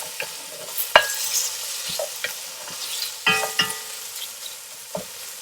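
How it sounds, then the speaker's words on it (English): Boeuf bourguignon with smoked bacon cooks down in a pan, a close, steady sizzle broken by sharp scraping stirs of a utensil against the pan. "Just going to wait till that really cooks down."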